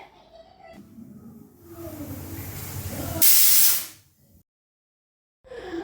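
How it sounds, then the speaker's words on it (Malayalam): A pressure cooker vents through its whistle: a loud, sharp burst of hissing steam for under a second, fading quickly into silence after a stretch of low kitchen rumble. "അപ്പോൾ കുക്കറിൻ്റെ വിസിലൊക്കെ വന്നു കഴിഞ്ഞു"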